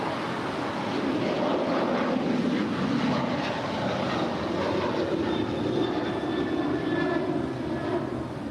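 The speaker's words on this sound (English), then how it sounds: "it's a 777-300ER coming in from Tokyo Narita" An ANA Boeing 777-300ER heavy airliner arriving from Tokyo Narita at LAX passes with a loud, sustained jet roar and faint whining engine tones, continuous throughout with no talking.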